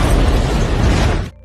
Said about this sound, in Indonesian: Sehingga terjadi ledakan yang cukup besar.